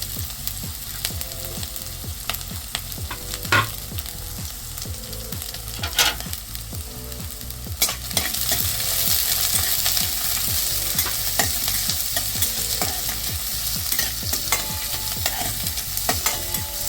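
Crushed garlic cloves, green chilies and onion fry in oil for Maharashtrian fenugreek bhaji, a close, continuous sizzle under rhythmic spoon scraping against the pan that grows louder and brighter near the end.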